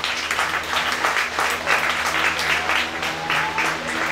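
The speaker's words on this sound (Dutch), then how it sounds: "Mag ik een applaus? Voor de president." Sustained applause from a large audience honoring the president, steady clapping filling the whole stretch with a faint voice underneath.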